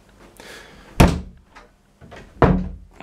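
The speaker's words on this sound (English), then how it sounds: "Shut that door." A door slams shut twice indoors, each a loud, sharp thud with a short rumble, about one and a half seconds apart, with fainter rustling handling noise just before each slam.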